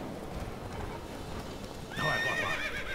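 A horse in The Witcher 3 video game gallops with constant rapid hoofbeats, then lets out a loud whinny during the final second.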